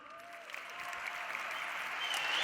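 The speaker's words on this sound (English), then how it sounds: "clap it up for the youngsters one more time" Keynote audience at Web Summit in Lisbon breaks into sustained applause that swells steadily louder across the moment, a dense wash of many hands with no talking over it.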